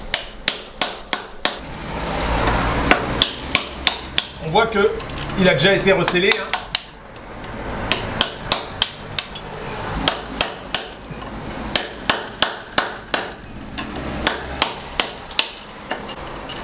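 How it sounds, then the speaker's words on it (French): Sharp metallic hammer taps on a screwdriver breaking away mortar to set a shutter hinge strike in quick bursts and rhythmic runs, loud and close, with someone speaking briefly between the strikes. "à l'aide de mon tournevis et du marteau, je vais casser cette partie."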